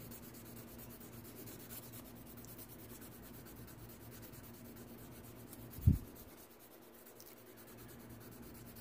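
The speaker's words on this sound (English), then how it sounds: "go ahead and fill this all in with a nice layer of graphite." A graphite pencil rubs over a paper gunstock pattern with a continuous faint scratchy shading sound. There is one brief louder bump near the end, and no speech.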